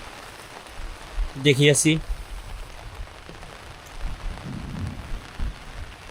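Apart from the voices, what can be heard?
light rain falling in a village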